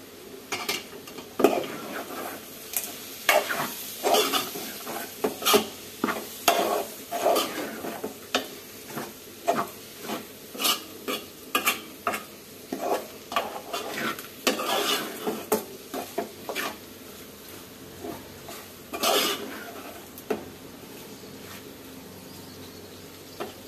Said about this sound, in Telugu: మంచిగా ఫ్రై అయింది కూర.